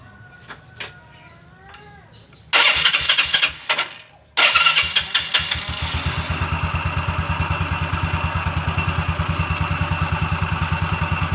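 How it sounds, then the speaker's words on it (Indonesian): A carbureted Yamaha Xeon scooter engine cranks in a few loud bursts, stalls briefly, then catches and settles into a steady, even idle close up. Birds chirp faintly before it starts. "Sekarang tinggal kita hidupkan ya."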